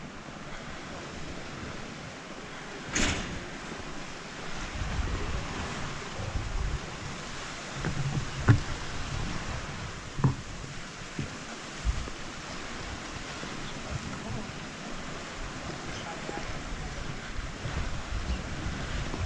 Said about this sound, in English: Sea's a little bit choppy